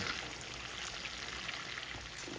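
A steak fries with melting butter in a cast iron skillet, giving a steady, close sizzle with faint crackles and no talk.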